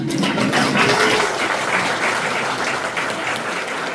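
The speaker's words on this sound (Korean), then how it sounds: "맞다고 생각하시면 박수하고 그러는" Audience at a periodontology society academic conference applauding steadily for several seconds, a dense, even wash of clapping heard up close with no voices over it.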